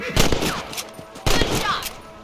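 Gunshots in a western video game while shooting rabbits, two separate loud cracks about a second apart with voices talking between them.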